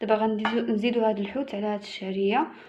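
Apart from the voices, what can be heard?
No everyday noise stands out behind the speech.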